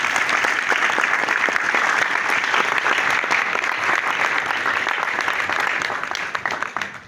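A large crowd at a formal gathering claps loudly in honour of the First Lady, a dense continuous burst of applause that holds steady for several seconds and then thins out toward the end.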